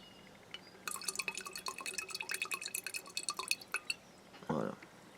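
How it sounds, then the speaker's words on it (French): Store-bought cider vinegar pours into fermented apple juice, a close, quick trickle of glassy drips and splashes for about three seconds, followed by a short muffled clunk. "je vais rajouter un peu de vinaigre de cidre acheté"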